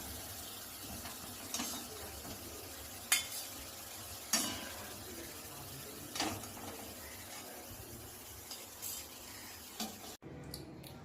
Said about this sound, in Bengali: এভাবে সব কোপ্তাগুলিকে আমরা ফ্রাই করে নেব